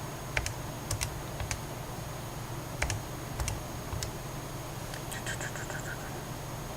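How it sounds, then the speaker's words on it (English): Scattered light key taps on a calculator, a few isolated presses and short quick runs of clicks, close by and fairly faint over a steady background hiss. "On my calculator, I guess you don't need me to tell you what I'm typing in."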